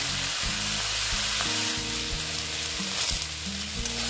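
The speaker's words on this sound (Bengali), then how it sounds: "আমি একসঙ্গে দিয়ে দিলাম, সব দিয়ে ভেজে নিচ্ছি।" Ingredients for a bata fish dish fry in hot oil, a dense continuous sizzle that stays loud and close throughout with no voices.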